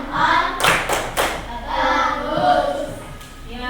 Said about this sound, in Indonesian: Anak-anak kelas 5, tepuk jempol dulu, tepuk jempol